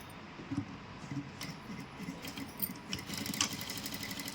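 Short bursts of a sewing machine stitching chudidar pants, a moderate rattling whir with small pulses, fairly close and without talk.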